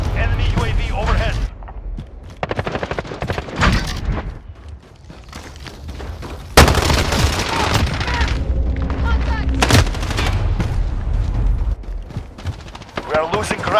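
Rapid bursts of automatic fire from a Sykov automatic pistol and a low-recoil MP5 in a first-person shooter, loud repeated volleys interrupted by short pauses, with game voice callouts and battle noise in between.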